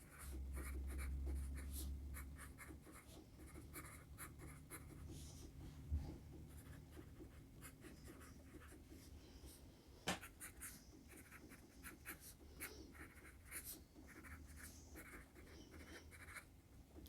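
A vintage Koh-I-Noor Bridge graphite pencil is written with on paper, giving faint, close scratchy strokes in short irregular bursts, with a couple of light taps and no talking.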